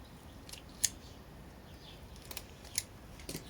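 Scissors snip through an aeonium succulent stem in several quiet, sharp clicks spread over a few seconds against a faint, hushed background.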